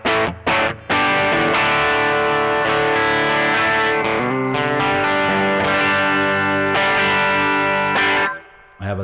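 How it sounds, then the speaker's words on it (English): Electric guitar on the bridge pickup through a Trex Dual Drive pedal set to light overdrive, playing sustained chords and single notes with a few short stops, loud and alone. "I have a light overdrive sound."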